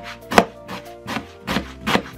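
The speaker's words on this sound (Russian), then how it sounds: "Лук будем резать просто полукольцами, сперва пополам, а затем полукольцами." A knife chops an onion into half rings on a cutting board: four distinct, crisp thuds spaced about half a second apart, close and clear, with no talking.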